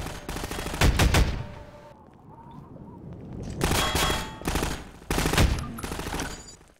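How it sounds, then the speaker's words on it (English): Gunfire in the shooter game Half-Life 2, several sharp loud bursts of rapid shots separated by short quiet gaps, with metallic clanks and dings between them. "I love the guns in Half-Life."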